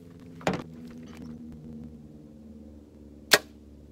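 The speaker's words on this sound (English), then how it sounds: "I think I may have heard that hit hay." Two sharp thuds of arrows fired from 200 yards striking hay bales, one near the start and one near the end, each brief and distinct over a low steady background hum.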